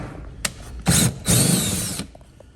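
A power tool works a 10 mm bolt under the front bumper of a Hyundai Palisade, whirring in a short blip and then two longer bursts with a brief gap between them, loud and close.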